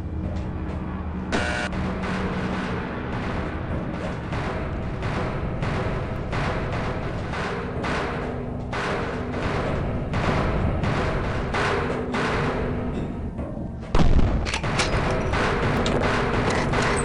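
Dynamite-filled crates blow up in Half-Life, a string of heavy booms and crashing impacts over game noise, with a sharp loud blast near the end.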